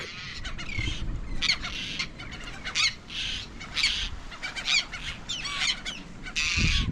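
Seabirds squawking in a busy chorus at Great Bird Island, Antigua, many harsh overlapping calls over a steady windy rumble, some near and others farther off.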